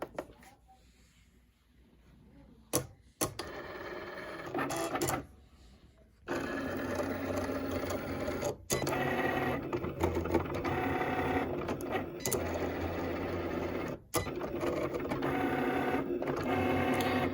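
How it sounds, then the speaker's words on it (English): A Cricut cutting machine cuts out a name, giving a steady mechanical whir with carriage motor movements and brief pauses and clicks, close and fairly loud, with no talking. "So I'm gonna go ahead and press that, and that will go ahead and cut my name."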